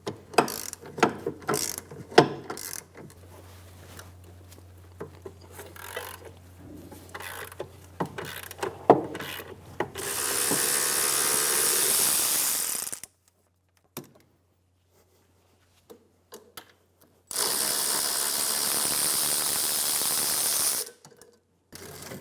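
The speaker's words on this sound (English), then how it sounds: "Remove the caliper bracket bolts using a 19mm." A ratchet with a 19mm socket loosening the rear brake caliper bracket bolts on a 2003-2007 Infiniti G35, heard as rapid clicking bursts of pawl ratcheting followed by two long, steady stretches of continuous buzzing ratchet noise, close up.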